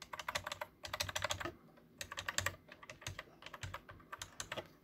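Fast typing on the MIDI keys of a Cooler Master Devastator 3 membrane keyboard: dense bursts of close, soft clacking in several quick flurries separated by brief gaps.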